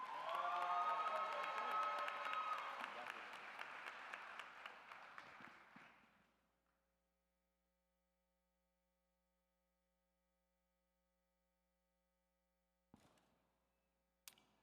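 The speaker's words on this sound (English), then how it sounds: "let's give a huge round of applause to Zachary Rocky Anderson." Applause from a large audience at a university commencement ceremony swells into loud, dense clapping with some cheering for about six seconds, then fades into near silence broken by a couple of sharp knocks.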